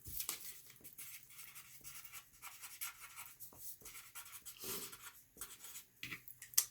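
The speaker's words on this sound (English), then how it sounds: "I'm going to write that down" Handwriting on paper, heard as faint, close scratching and rubbing strokes in short, uneven bursts with brief pauses between them, quiet and without talk.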